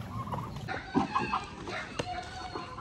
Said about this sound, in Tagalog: So ito yung mga white leghorn natin.